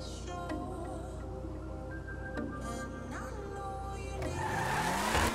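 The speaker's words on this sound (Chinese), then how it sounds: "哇，这台车有电动引擎的感觉啊" A supercar in GTA Online with an electric-style drivetrain, giving a smooth humming whine that holds fairly level, then climbs in pitch as it speeds up near the end, with faint game noises behind.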